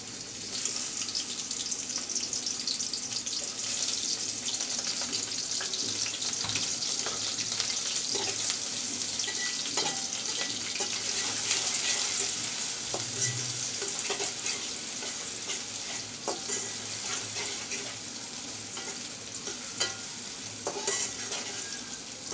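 Chopped onion frying in oil in a pan for a village-style tilapia and potato dish, a continuous bright sizzle with intermittent spatula scrapes and taps throughout, close and steady, no voices.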